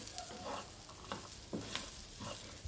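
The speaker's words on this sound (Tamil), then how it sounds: "இதோட நல்லா மிக்ஸ் பண்ணி விட்டுக்கோங்க." Cowpeas poriyal with fresh coconut being stirred in a pan, a steady soft sizzle with a few scraping strokes of the spoon spread across the stretch, alone with no talk.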